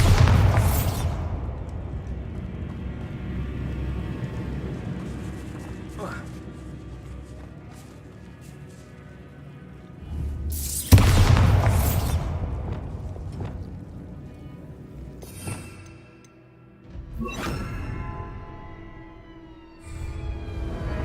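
Bombarda explosion spells in Hogwarts Legacy go off as a few booming blasts spaced across the stretch, each a sharp burst trailing into rumbling decay over quieter game ambience.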